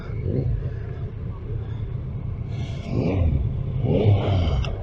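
A Yamaha MT-10 1000 cc sport motorcycle engine rumbles steadily at low revs while riding, with a few throttle blips raising the pitch briefly; close and loud, no talking.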